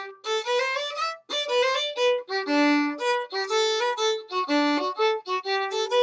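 A solo fiddle plays a quick melodic phrase with rapid ornamented note runs, bright and close, without any talking.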